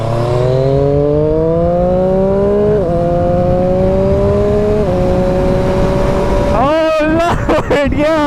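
A 2018 Triumph Street Triple RS motorcycle runs close and loud, its engine note climbing steadily through a few gear changes before a sharp rev and quick throttle blips at the end.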